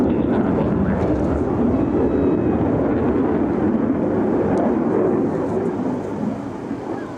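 US Navy Blue Angels jets fly the Diamond aileron roll at the 2025 Wings Over South Texas Air Show, making a continuous loud, broad roar that lasts throughout and eases off slightly at the very end.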